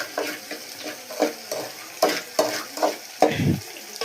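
Semolina (rava) roasting and frying in a pan on a gas stove, with a spoon scraping and stirring it in repeated strokes about every half second, dry sizzle throughout and a deeper scrape near the end, close and clear with no talk.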